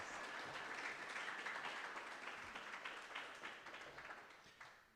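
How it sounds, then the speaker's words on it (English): An audience at a university storytelling event applauds, a dense, steady wash of clapping that holds and then gradually thins out, heard from a distance. "Another round of applause for Mary Lou Williams."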